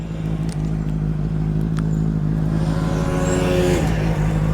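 A Benelli 600i four-cylinder motorcycle engine runs loud and close throughout, holding a steady idle before revving upward and then settling back down.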